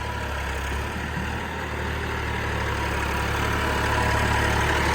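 A heavy Massey 9500 tractor engine chugs steadily nearby while ploughing, a continuous low drone without pauses or changes in pace.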